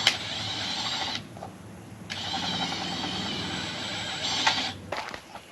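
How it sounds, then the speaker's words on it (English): Power drill boring an 8mm hole into a brand-new Gen 3 awning, running in two loud sustained whirring bursts with a short pause between them and a brief rattle at the end. "I just drilled it into my brand new awning. Hole size as per spec, 8mm"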